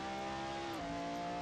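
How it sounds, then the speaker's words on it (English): A McLaren GT500 race car in a racing video game at Autopolis gives a sustained, buzzing engine drone whose pitch dips briefly as revs change, steady and moderately loud with no talk. "so we can hear the lovely McLaren noises coming off it"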